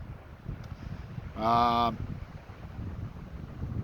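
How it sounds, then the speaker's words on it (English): Strong wind blows outdoors, buffeting the microphone with a low, rumbling roar that rises and falls in gusts throughout, while a brief spoken hesitation is heard midway. "it's windy as hell out here today"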